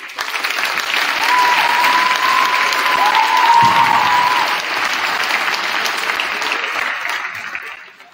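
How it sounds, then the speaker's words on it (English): A crowd at a high school fall athletic awards night bursts into sustained applause, swelling, holding steady with faint cheering, then tapering off near the end. "do one more round of applause for this"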